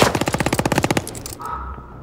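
Rapid automatic gunfire in Call of Duty Vanguard rattles loud and close in a fast steady burst for about a second, then trails off into a fading echo.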